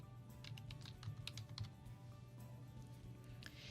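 Steady keystrokes on a computer keyboard typing in a search term, clicking in quick irregular bursts over a low constant hum, no voices.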